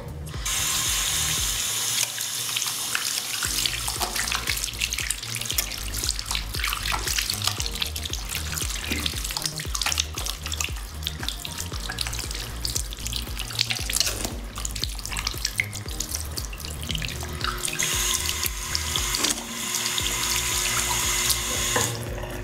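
Water runs steadily from a bathroom sink faucet, a dense continuous splashing rush that stays loud and close, with hand-washing splashes and no talk.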